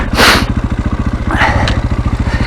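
A motorcycle engine runs close and loud, its low exhaust pulsing in a rapid, even beat, with brief bursts of noise over it.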